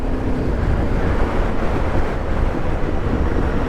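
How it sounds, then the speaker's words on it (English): Strong wind buffets the microphone in a constant loud roar during a motorcycle ride in North Nottinghamshire, with no voices over it. "it's windy today"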